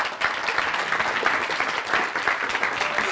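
A school debate audience gives steady, dense applause for the third member of the negative team. The clapping is sustained and close throughout, with no speech over it.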